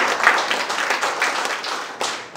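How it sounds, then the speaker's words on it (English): A church congregation claps and applauds together in a broad, steady wash of hand claps that fills the clip and swells again near the end, with no speech over it. "Let's give God a big round of applause."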